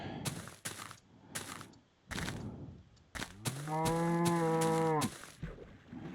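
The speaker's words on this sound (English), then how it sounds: "So many cows." Cows mooing in a video game: a few short clicks and thumps, then one long, loud, drawn-out moo that fades away, with quieter game noises around it.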